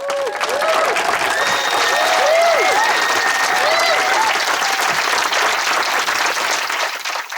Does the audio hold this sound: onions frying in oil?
no